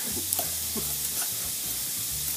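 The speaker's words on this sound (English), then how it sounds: "I'm going to mix those all together" Keto calzone dough ingredients, including eggs, mixed together in a bowl, with soft, steady stirring and scraping over a low background hum, close and quiet, with no voices.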